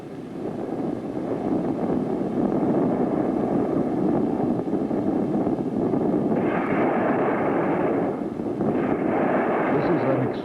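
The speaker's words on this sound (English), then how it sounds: "Successfully explodes its second nuclear bomb in the sky over the western part of our country." China's second nuclear bomb explodes in the sky over the country's west, captured in an archival broadcast as a loud, continuous rumbling roar that holds for about ten seconds, with a hissy edge building later.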